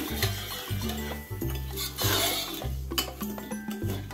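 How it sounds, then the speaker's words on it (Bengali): Gravy for Bengali vegetarian soya muitha stirred in a pan, repeated scraping strokes over a low sizzle, close and moderately quiet, with no one speaking. "দিয়ে আমি এটা একটু নাড়াচাড়া করে দেবো গ্রেভিটা"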